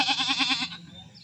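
A man imitates a goat bleating in a village setting, giving one short wavering bleat with a rapid vibrato, loud and close, that fades out after under a second.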